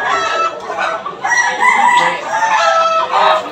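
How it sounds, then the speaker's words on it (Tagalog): A gamecock rooster crows and clucks up close, loud, layered calls filling the whole stretch with little else under it. "Ayos, magandang manok."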